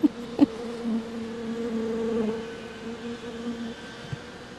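Swarm of honeybees buzzing inside a vacuum after being sucked up during a rooftop hive retrieval, a steady droning hum with a couple of brief knocks at the start, moderately faint and without talk.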